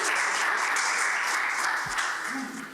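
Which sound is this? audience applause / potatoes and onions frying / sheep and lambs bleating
audience applause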